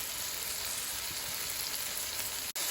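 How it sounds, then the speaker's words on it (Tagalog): Spices, cayenne, paprika and tomato paste sizzle steadily in a hot pan, a loud continuous frying hiss that cuts out briefly near the end. "So, ituloy ang paggisa guys."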